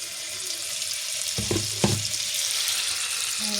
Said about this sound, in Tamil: எண்ணெய் விட்டு கடுகு போட்டாச்சு பாருங்க கொஞ்சம் கடுகு வெடிக்க விட்டு